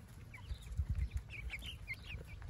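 Backyard chickens on a suburban permaculture plot in Pueblo give soft, scattered clucks, faint and fairly distant over a low background rumble.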